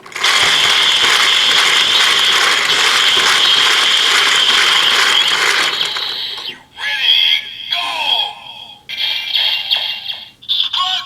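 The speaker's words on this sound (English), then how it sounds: "when you turn the crank again, they'll activate the sparkling finish." Crank on a DX RabbitTank Sparkling toy transformation belt from Kamen Rider Build being turned, giving loud rapid ratcheting clicks for about six seconds, then choppier mechanical bursts and electronic tones.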